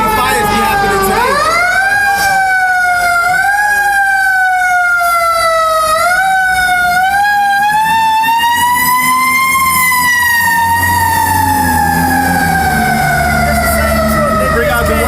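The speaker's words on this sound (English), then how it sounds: "It'd be like 5, 10 fire trucks I want to go by, man." A fire truck siren wails loud and close, its rising and falling sweeps repeating as it passes on a city street, with a deep engine rumble underneath.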